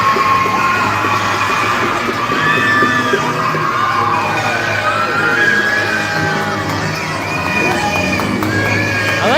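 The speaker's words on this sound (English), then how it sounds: "they're cheering regardless" Loud, dense crowd noise at a youth hockey game in an arena, with shrill whistling, yelling and high-pitched shouts layered together continuously and close.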